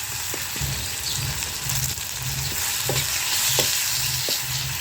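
Tomatoes and salt added to onions frying in a pan over a wood-fired stove, a steady close sizzle with regular scraping stirs, about eight strokes, no talk.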